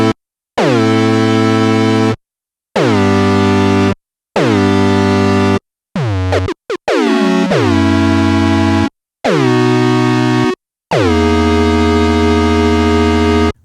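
Sequential Prophet 5 synthesizer patch in which each note starts an octave high and quickly glides down to its landing pitch. Seven loud, bright, buzzy notes of varying length sound alone, separated by short silences.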